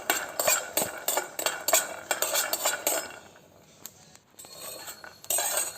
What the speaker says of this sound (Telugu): తర్వాత ఒక కడాయిలోకి శనగగింజలు తీసుకునేసి దాన్ని బాగా దోరగా